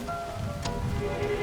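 Steady rain patters outside as a soft, continuous hiss, with no voices and a brief brighter splash partway through.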